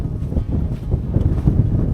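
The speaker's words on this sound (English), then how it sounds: "it's very windy" Strong wind at Wallasea Island Reserve buffets the microphone with a continuous low, rumbling roar that gusts and swells throughout.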